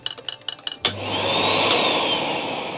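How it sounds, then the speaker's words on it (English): Henry Hoover vacuum cleaner: several clicks, then a sharp switch-on and a steady loud whirring motor with a rising whine, running close by without speech. "then we're gonna turn the Hoover on"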